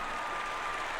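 A crowd gives dense, continuous applause that holds steady and even throughout, with no distinct voices standing out.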